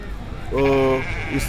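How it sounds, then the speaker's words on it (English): Sheep on a farm flock of over six hundred bleating, one clear, loud, wavering bleat in the middle with a shorter bleat after it and low farm background noise. "As you can see now, we have a lot of sheep at this farm."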